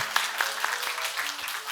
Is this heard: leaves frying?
no